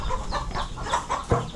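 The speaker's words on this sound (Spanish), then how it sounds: "Y la gallina, nunca falta." A hen clucks in quick, close, repeated bursts, a rapid run of short calls ending in a slightly louder cluck.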